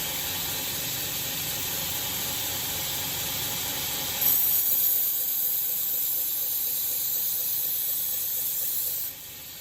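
Steady hissing grind of a knife edge against a 220 grit belt on a belt grinder, loud and continuous, brightening midway as pressure changes, then easing off near the end.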